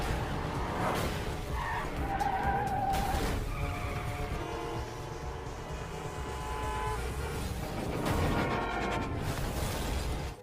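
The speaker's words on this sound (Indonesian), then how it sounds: "Hal tersebut membuat kacau lalu lintas hingga terjadi kecelakaan beruntun." Cars skid with long, loud tire squeals in a chain-collision traffic crash during a street chase, squeals and engine roar overlapping for about ten seconds with no talking.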